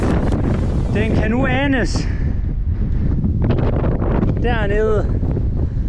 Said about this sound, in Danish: Der blæser helt vildt lige nu.